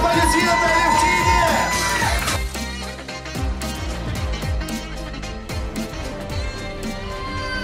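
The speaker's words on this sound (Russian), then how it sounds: "Громкие аплодисменты Алевтине!" A crowd cheers for the winner crowned at the Miss Bloknot 2021 beauty pageant, with whoops, shouts and excited voices over a loud, busy din. Clapping fades in beneath the cheering.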